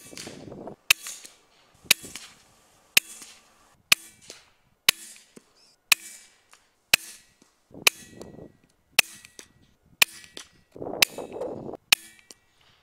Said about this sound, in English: he last of Stuart's rabbits are gathered up, let's have a quick look at the shots recorded on the ATN X Sight